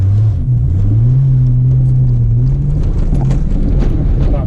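Holden VS Commodore accelerating hard, a loud, close engine note rising in pitch then holding steady before easing, with a deep rumble underneath and no talking.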